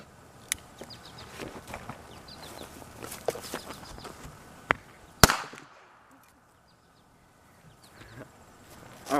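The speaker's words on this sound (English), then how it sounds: "we're going to be doing the exact same experiment with the Greek container as well, with this even smaller France firecracker." A small French firecracker goes off inside a container with one sharp crack, after quiet rustling and scattered taps, followed by near silence.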